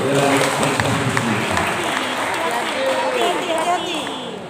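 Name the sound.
audience applause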